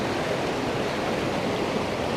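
A river flows with a steady, full rush of water, continuous broadband noise without pauses or voices.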